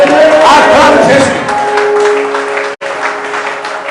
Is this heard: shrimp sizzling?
no